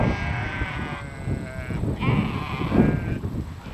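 A goat and sheep in a pasture bleat several times in close succession, loud and near, with faint background noise and little talk.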